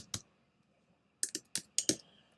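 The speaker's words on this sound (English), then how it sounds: "then simply start typing" Typing on a computer keyboard: one sharp key click, a pause, then a quick burst of four or five crisp clicks, close and clear in a quiet room.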